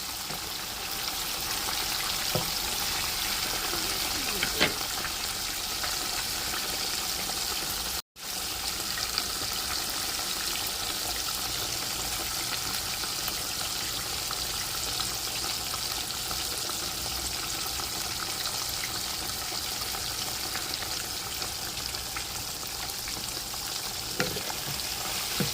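Chicken frying in hot oil gives a steady, dense sizzle that holds evenly for the whole stretch, with only a brief dropout partway through and a few faint pops and clinks. Nobody speaks.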